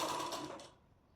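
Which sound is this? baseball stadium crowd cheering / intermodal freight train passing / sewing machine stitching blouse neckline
sewing machine stitching blouse neckline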